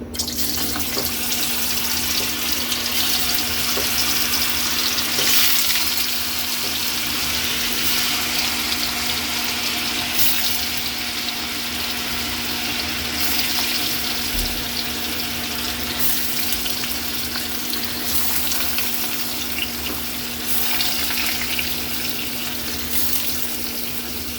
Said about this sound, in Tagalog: Kaili, mainit na yung mantika natin, ilagay na natin yung tukwa